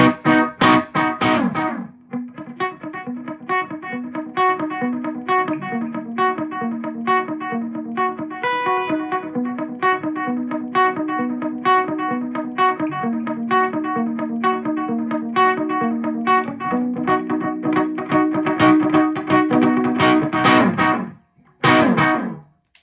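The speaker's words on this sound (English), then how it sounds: "not a terrible dotted 8 type sound, delay tone out of a reverb pedal" An electric guitar plays a rhythmic picked figure through a dotted-eighth delay from a TC Electronic Hall of Fame 2 Mini reverb pedal, repeats cascading between notes, continuous and fairly loud for about twenty seconds before stopping.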